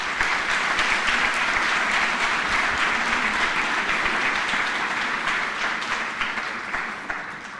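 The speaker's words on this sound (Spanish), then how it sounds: "Por favor, un aplauso." Sustained audience applause at a judicial panel session in a hall, a dense, even wash of clapping that holds steady for several seconds and tapers slightly toward the end.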